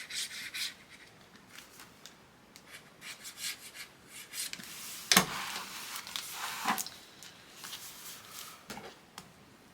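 A burnishing tool rubbed over paper on a mini album page, in short dry scraping strokes in irregular bursts, close and quiet, with one sharper crackle midway.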